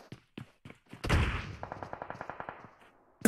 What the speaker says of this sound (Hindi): बहुत फायरिंग हो रही है उस्ताद जी इधर